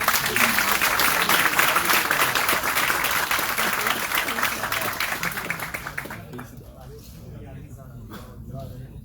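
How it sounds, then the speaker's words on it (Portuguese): A crowd applauds loudly and steadily, the clapping thinning out and fading near the end to scattered claps. "Palmas aí para essa galera"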